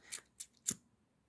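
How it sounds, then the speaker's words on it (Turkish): Scissors snip thread three times in quick, quiet, close succession, with silence between the cuts. "İpimi kesiyorum."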